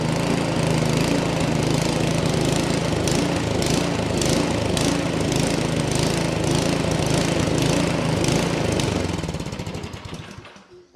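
Two-stage snowblower with a surging fault, its small engine running loud and close with a rough, pulsing roar and rhythmic rising bursts, then winding down and fading out near the end.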